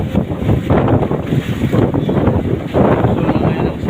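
Strong wind buffets a boat at sea with loud, constant roaring gusts and rumbling close to the microphone, and no clear talk.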